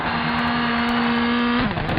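Rally car engine in the game Colin McRae Rally 3 holds a steady, loud drone at constant pitch for most of the clip, then drops sharply as the driver lifts off near the end.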